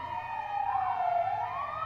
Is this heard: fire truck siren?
yes